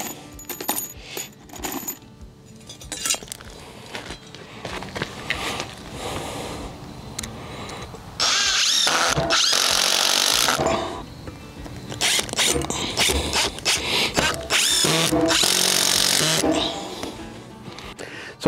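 A power drill drives screws into a temporary laminated beam of sawmill lumber, with two long, loud whirring bursts separated by shorter clicks and handling noise, while someone talks between them.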